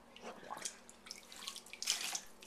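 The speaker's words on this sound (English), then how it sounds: "Pour some water on Ella." Water poured over a small child during a bath, heard as a couple of brief splashing gushes into the tub, close by with faint background hiss and no talking.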